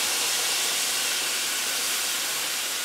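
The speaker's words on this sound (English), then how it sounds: "now we add in about a third of the beef stock" Beef stock pours into a hot pan of flour for a steak and mushroom pie filling, raising a loud, steady, close steaming hiss that fills the whole moment without a break.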